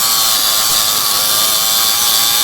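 A Makita DJV181 cordless jigsaw cuts through wood, a loud, steady buzzing drone that holds constant without pause, with no talking over it.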